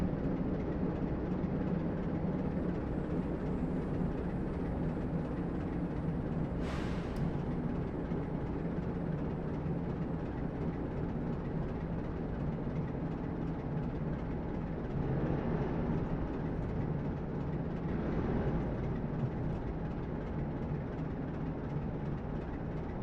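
A train engine in Train Simulator 2020 rumbles steadily on the Exeter St Davids to Paignton line near Teignmouth, a continuous low drone with a brief higher hiss partway through.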